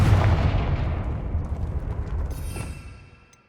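A Confringo spell explosion in the Hogwarts Legacy video game erupts as a heavy, rumbling blast that starts at full force and rolls away over about three seconds, with no talking.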